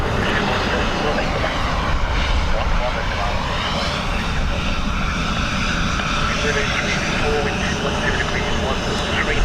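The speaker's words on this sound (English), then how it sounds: "This Ryanair was in from Luxembourg." A Ryanair jet arriving at Dublin Airport from Luxembourg roars steadily nearby, a broad continuous engine rumble filling the scene, with possible crosswinds noted.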